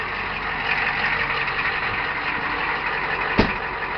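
A 1993 Ford IDI non-turbo diesel truck engine idles after a cold start, a steady close-up rumble with an even rough clatter and one brief sharp knock near the end.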